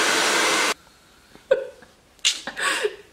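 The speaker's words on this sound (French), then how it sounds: "je vais sécher comme ça rapidement à la brosse" A hair dryer blows loudly and close for under a second, then cuts out, followed by short rustles and bursts of noise from brushing hair.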